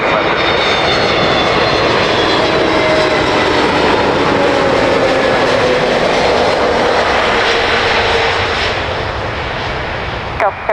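A heavy jet aircraft landing at Miami International Airport roars loudly and steadily overhead, a broad sustained engine rumble that holds throughout and eases slightly toward the end.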